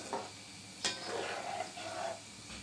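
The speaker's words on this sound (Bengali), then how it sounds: "হালকা হালকা নেড়ে নেড়ে আমি ভেজে নিচ্ছি এভাবে করে" Egg-battered bean flowers sizzle softly in hot oil in a pan while a utensil stirs and nudges them, with a sharp scrape near the middle over a steady frying hiss.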